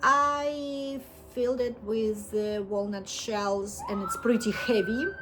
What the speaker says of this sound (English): Sorry for the sirens, I live near the fire station.